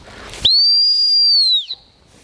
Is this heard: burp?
no